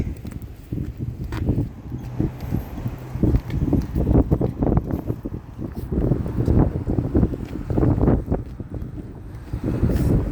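Strong wind roars and buffets the microphone in gusty, uneven bursts, loud and close, with no voices.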